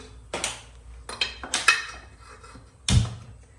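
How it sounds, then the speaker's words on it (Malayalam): Several metallic clanks and knocks of a pressure cooker being handled and set down on a stove, with a louder thud near the end. "കുക്കർ അടുപ്പത്ത് വെച്ചു"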